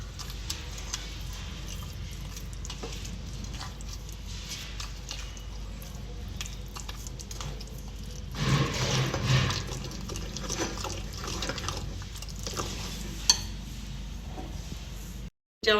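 Water pours into a bowl of rava and besan dhokla batter, a soft wet splashing and swirling in a quiet kitchen, with a louder burst of pouring partway through before things settle again and end in a brief click.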